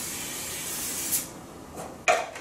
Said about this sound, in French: Alors ça, c'est une bombe, un agent de graissage et qui aide au démoulage